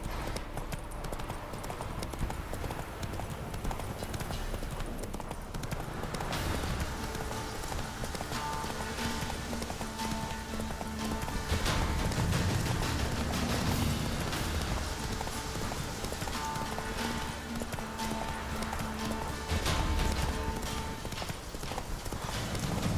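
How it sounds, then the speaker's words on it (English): Hooves clip-clop at a rapid gallop in The Witcher 3, a steady, close drumming of a running horse with game ambience and a brief whinny beneath. "Whoa there, Roach."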